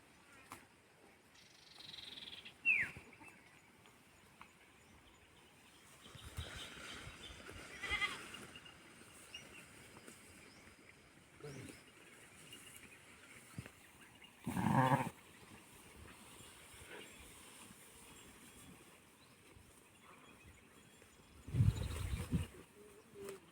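A grazing sheep flock out after rain stays mostly quiet, with a few scattered, faint bleats rising out of a low background now and then, heard from some distance.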